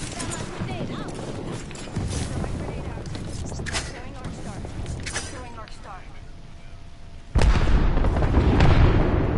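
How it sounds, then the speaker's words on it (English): Explosions ring out in the Apex Legends video game, a dense run of loud booms and bursts of gunfire that builds to a heavy blast near the end, while a player talks over the action. "All them exploded."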